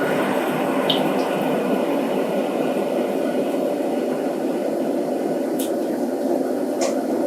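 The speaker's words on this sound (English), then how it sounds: "Okay, at this point I'm going to have to put the fan on." A kitchen fan runs with a constant, even whoosh while curried mutton cooks, with a few faint clinks and drips over the steady drone.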